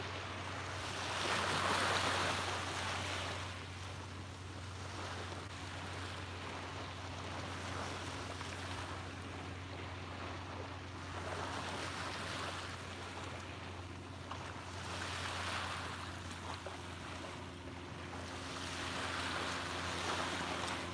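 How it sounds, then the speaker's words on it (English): Ocean waves wash onto a beach at sunrise, a steady soft roar with gentle swells rising and falling every few seconds, moderately distant and continuous, with no voices. "soak in the colors of the scenery and the sound of the waves"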